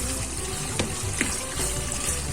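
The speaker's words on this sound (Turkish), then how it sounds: "İçli köftemin kıymalarını iyice kavuruyorum" Minced meat for içli köfte sizzles steadily in a hot pan, a continuous close crackling hiss with a few small pops and stirring knocks.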